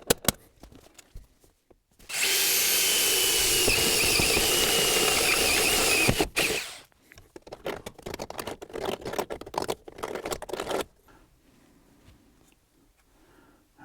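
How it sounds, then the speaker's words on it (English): A power drill whines loudly for about four seconds drilling a hole in a car dashboard, then gives short, sputtering bursts and clicks before fading to quiet handling noise. "I'm going to go ahead and drill my hole."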